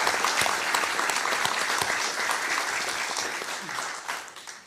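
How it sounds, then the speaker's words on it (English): Steady applause fills a room at a judicial ceremony, a dense wash of clapping that holds for several seconds and then begins to thin out toward the end. "Let's give them a round of applause."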